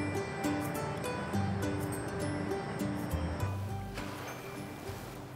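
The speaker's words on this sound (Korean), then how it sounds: "여러분 이 소리 들리세요? 바닷소리죠." Sea waves wash steadily onto a shore at Seokmodo island, Ganghwa, South Korea, a soft continuous surf with a low rumble, heard alone at moderate distance.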